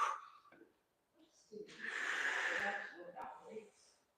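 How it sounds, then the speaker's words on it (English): Heavy, rhythmic inhaling and exhaling during a leg, glute and calf workout: a short breath, a pause, then a long, rough exhale that trails off, heard up close. "inhaling and exhaling"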